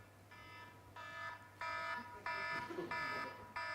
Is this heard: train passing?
no